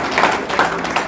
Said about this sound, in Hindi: आपकी तालियों के बीच में नाम ले रहा हूँ